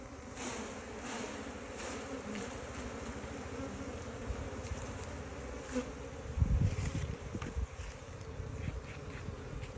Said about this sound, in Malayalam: ഇതിൽ ഫുള്ള് ഈച്ചയാണ്